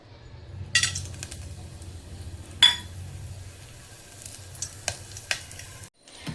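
Whole green cardamom, cloves and cinnamon sizzle in hot ghee in a pan, a steady close frying hiss broken by several sharp clinks of a utensil against the pan.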